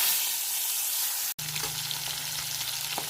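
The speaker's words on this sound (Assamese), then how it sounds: "এতিয়া মই এয়া মাছখিনি ফ্ৰাই কৰি আছোঁ।" Singi fish frying in a pan of hot oil, a steady dense sizzle filling the whole stretch, broken by one brief cut before the crackle resumes, with no voices.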